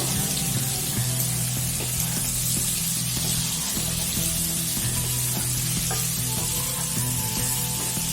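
Chicken with green chilies fries in a pan with a steady, loud sizzle and spattering, broken by scattered clinks of stirring throughout.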